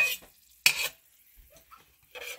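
Garlic tipped into a pan of roasting peanuts gives a sharp burst of stirring and scraping, then a few faint clinks and a quieter rustle that returns near the end, with no talking.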